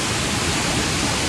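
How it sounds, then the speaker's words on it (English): A waterfall in a little canyon in the Ozarks roars as a loud, constant broadband rush with no pauses or voices. "a couple awesome waterfalls"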